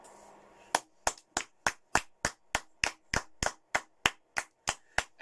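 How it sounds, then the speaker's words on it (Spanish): Hand claps from a lone person celebrating a player named Palma as player of the month, a steady run of about fifteen sharp, close, loud claps after a quiet start, with no talking over them. "¡Un aplauso, tío! ¡Un aplauso!"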